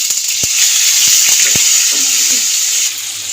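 Cumin seeds frying in hot oil in a pan for a Bengali fish curry with tomato, a close, steady sizzle broken by a few sharp clicks and spatula scrapes against the pan.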